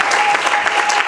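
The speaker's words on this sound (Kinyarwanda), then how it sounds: "Reka twongere Imana aca amashyi menshi" Church congregation clapping together in a sustained, dense burst of applause that holds steady from start to finish, close and fairly loud, with no speech over it.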